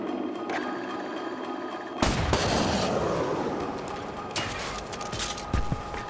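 Gunfire in an online shooter game, starting as faint shots and then a sudden loud burst of heavy gunfire and explosions that rumbles and fades, with further sharp shots near the end.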